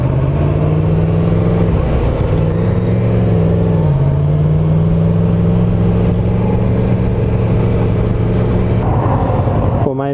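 A Yamaha FZ10 motorcycle engine holds a steady, loud, close drone while riding, its pitch dipping slightly and rising again, with wind rush throughout.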